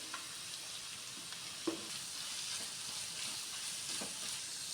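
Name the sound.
onion and carrot sautéing in a pan for veg noodles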